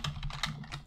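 Quiet, close keystrokes on a computer keyboard, a quick run of soft clicks lasting about a second.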